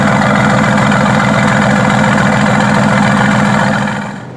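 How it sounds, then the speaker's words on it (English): Mercedes-AMG GT S exhaust idling steadily, a loud, close, deep rumbling burble with an even low pulse that fades slightly at the end. "Here's how it sounds merely at idle."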